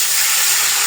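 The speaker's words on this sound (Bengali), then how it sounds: "তেলের ঘরে ডিমগুলো দিয়ে দিলাম" Eggs dropped into hot oil in a pan, a loud dense sizzling hiss, close and unbroken for a brief moment.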